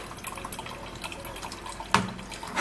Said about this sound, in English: So I'm going to be sieving this out.